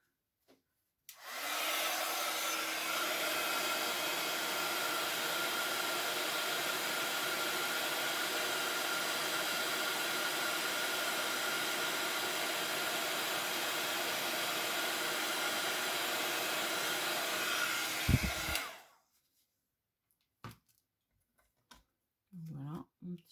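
A heat gun warms an embossed card during card making, a steady loud blowing whir running for about seventeen seconds before cutting off, followed by a few faint clicks and rustles.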